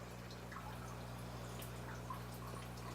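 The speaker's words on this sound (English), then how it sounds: "I just want roughly 1 to 2 drips a second." Liquid drips slowly from a dropper or spout at roughly one to two drops a second, small soft ticks over a steady low background hum.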